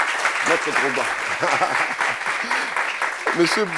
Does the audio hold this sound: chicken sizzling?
no